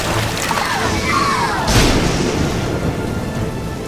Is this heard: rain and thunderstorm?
yes